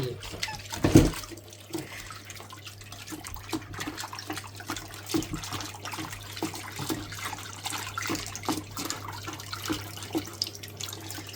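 Tap water runs and splashes as vegetables are washed in a kitchen sink, a loud splash early on, then continuous trickling and sloshing with intermittent handling noises.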